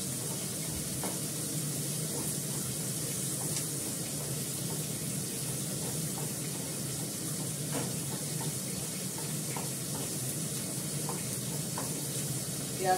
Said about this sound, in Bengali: পেঁয়াজটাকে ভালো করে ভাজা ভাজা করে নিই একটুখানি।